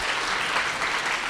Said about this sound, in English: I would just like to offer a round of applause to Charlie for doing that.